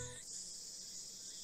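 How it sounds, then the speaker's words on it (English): Cicadas at a quiet shrine in the Steins;Gate visual novel drone in a faint, steady high buzz that runs unbroken beneath a low background hum. "where the cries of the cicada resound."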